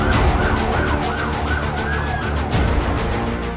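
Police van and ambulance sirens on a street in Queens, New York, wailing loudly and continuously over dense traffic rumble, close and unbroken throughout.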